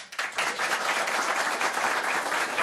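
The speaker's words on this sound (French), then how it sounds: "Merci d'applaudir." Steady, dense applause and clapping from a live audience at a stand-up comedy show, loud and continuous throughout, with no talk over it.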